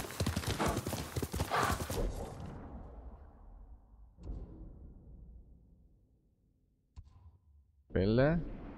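A horse in the video game Ghost of Tsushima trots with rapid clip-clopping hooves while someone talks over it, then the footfalls fade and a short, sharp whinny rings out near the end.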